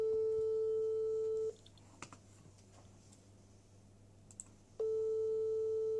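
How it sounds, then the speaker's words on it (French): A telephone calling tone: two long steady beeps, one at the start and one near the end, with a quiet gap between them holding faint ticks and room noise. "Donc je vais appeler Onan Guinée s'il décroche."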